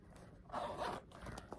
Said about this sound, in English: you've got your zipper pull here that also has the branded